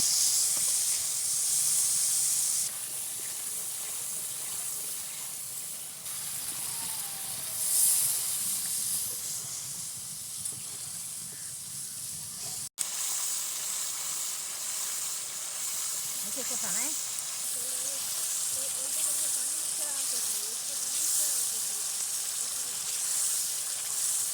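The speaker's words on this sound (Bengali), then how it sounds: "এবারে মশলা ভালো করে কষতে হবে।" Spice masala with onion frying in a pan for a fish curry, giving a soft, steady hiss and sizzle close by, with faint clinks of stirring partway through and no talking.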